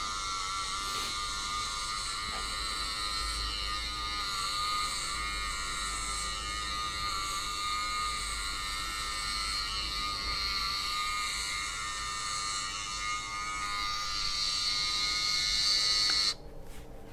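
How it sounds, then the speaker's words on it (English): Electric shaver running on a head of hair, a steady close buzzing drone that holds for the whole stretch with slight shifts in tone as it moves over the scalp, then cuts off at the end. "I was shaving my hair to demonstrate that I'm actually a bald person"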